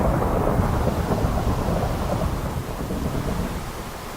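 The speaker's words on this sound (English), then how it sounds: "I thought I shut the rain off." Heavy rain roars without a break in modded Minecraft, with a low thunder rumble rolling under it, loud and even at first and easing slightly toward the end.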